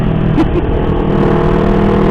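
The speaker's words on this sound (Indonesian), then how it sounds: "Kalau soal motor gue ngeraung ini karena tanjakan ya." A motorcycle engine roars loudly and steadily, straining uphill on a climb with a constant droning rumble and no pauses.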